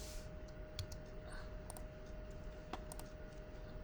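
Computer keyboard keys are tapped in a quiet room, with a handful of sparse, soft clicks from backspace and spacebar presses standing alone against a faint steady hum.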